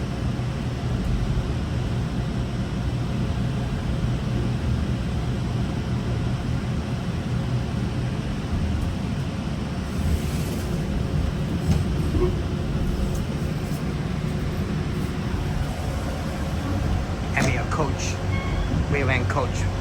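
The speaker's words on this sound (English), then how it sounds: "here we are on the train to Union Station." Interior of a GO Transit commuter train heading to Union Station, with a steady low rumble and broadband rolling noise throughout, a continuous wash of track and car sounds with occasional faint clanks near the end.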